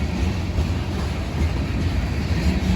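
A BNSF freight train rumbles past at close range, a loud, continuous deep roar with rolling low-end pulsing and no voices.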